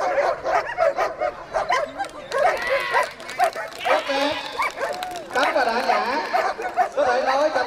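Dogs locked in a fight bark, yip and whimper in rapid, overlapping bursts close by, loud throughout, with crowd chatter and an excited announcer voice running over the top.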